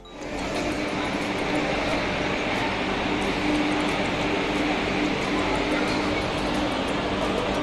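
Steady loud rumble and hiss of the Vande Bharat Express train in motion, a continuous broadband roar lasting throughout with no pauses.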